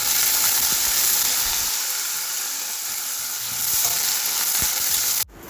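Tamarind water poured into a hot pan sizzles and bubbles loudly and continuously, steady throughout with a few small pops, ending abruptly.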